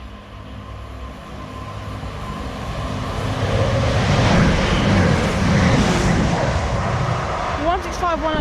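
A train passes Midgham station in broad, rising rumble that swells to a loud, sustained roar mid-clip before easing slightly, with a brief squealing sweep near the end.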